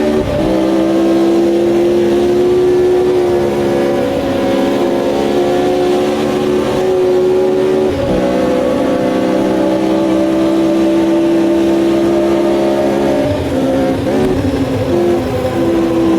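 Race car engines scream at high revs in the racing game Automobilista 2, set in a 1969 VR race. The loud drone runs continuously, dropping briefly with gear shifts, and there is no talk.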